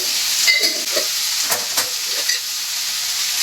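Food fries on high flame in a home kitchen before masala goes in, a continuous close sizzle with soft stirring scrapes and small pops, with no voices.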